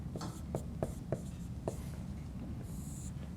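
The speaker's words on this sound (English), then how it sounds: "let me write it down first." Pen strokes scratch across paper while a slope formula is written out, coming as a series of short, close scratches with small gaps between them over a quiet background hum.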